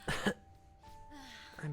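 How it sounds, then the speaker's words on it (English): A pair of short, close coughs separated by a strained, breathy voiced sound, quiet overall, from an exhausted character in Persona 5. "I can't stop coughing."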